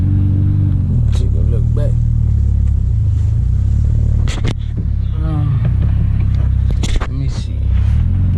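A Mitsubishi Evo with a flooded cold air intake idles with a deep, close rumble, then pulls away with some uneven engine surges while someone talks over it briefly.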